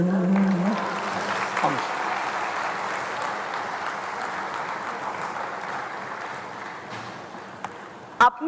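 Audience applause at a Hindi poetry recital: sustained, dense clapping from a crowd that carries steadily through the whole stretch at a moderate level, with a brief thump near the end.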